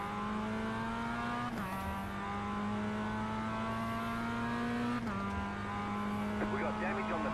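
A race car in the iRacing video game roars close by, its engine holding a steady high drone with brief shifts in pitch as it passes, while a voice talks over it intermittently.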